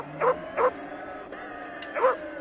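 Cartoon dogs chase a fast-moving rickshaw, letting out three sharp, yappy barks: two in quick succession, then a pause and one more, fairly close and clear.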